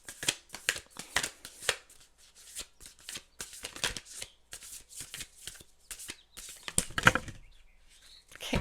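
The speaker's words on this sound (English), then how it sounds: "Let's go ahead and pull you guys' cards." A starseed oracle card deck is shuffled by hand in quick, close riffling bursts, a steady run of crisp papery flutters with brief pauses between them.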